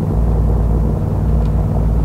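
Steady, loud helicopter engine drone in DayZ, a deep droning rumble that holds unbroken and alone throughout.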